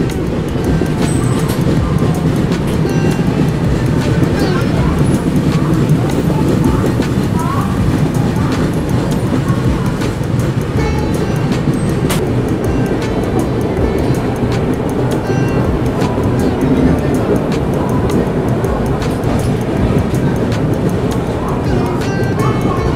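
Passenger train pulling out of Khurda Road station after a long halt, on the Vivek Express route in India; a steady, loud low rumble of rolling stock and track noise continues throughout with no clear pauses.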